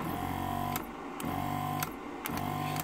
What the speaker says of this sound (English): as you press these you're gonna hear the pump kicking in